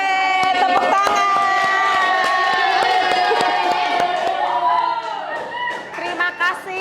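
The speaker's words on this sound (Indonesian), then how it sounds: "Oke, tepuk tangan." A school class bursts into loud cheering and clapping for a student group, with many young voices shouting together over the claps before the noise trails off.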